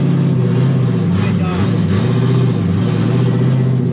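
A Corvette drift car engine revs hard at high speed, a loud, close, continuous drone with rising and falling pitch heard from inside the car as someone speaks over it.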